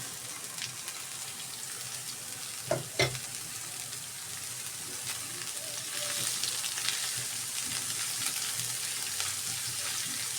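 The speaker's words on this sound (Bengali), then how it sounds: "এখন কাঁকরোল আর আলুটা দিয়ে দিই।" Teasel gourd and potato sizzle steadily as they fry in a pan with onion, with a couple of sharp stirring clatters early on and a louder, denser hiss once the vegetables settle in the hot oil.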